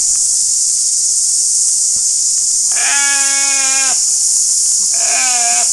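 An Arapawa ram gives deep, hoarse bleats: two harmonic calls, the first about a second long and the second shorter, heard close against a constant high insect-like hiss.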